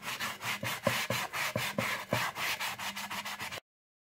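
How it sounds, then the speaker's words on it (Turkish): Rhythmic back-and-forth scraping of sandpaper removing paper edges from a cake dome, about a dozen even strokes up close, then silence. "Şimdi kuruduktan sonra hemen zımpara yardımıyla şu kenarlarındaki kağıt kısımlarını çıkartıyorum."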